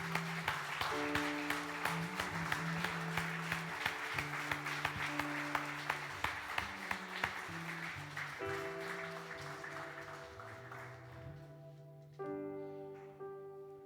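A church congregation applauds steadily at a worship service, with sustained music tones playing underneath throughout.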